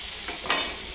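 Veg patty frying in butter or ghee in a pan, giving a soft, brief sizzle with a faint flare of hiss midway, quiet and close, no voices.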